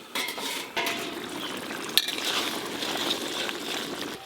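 A metal lid comes off a cooking pot of shukto, Bengali mixed-vegetable curry, with a bright clink near two seconds over steady simmering and bubbling, plus a couple of earlier knocks.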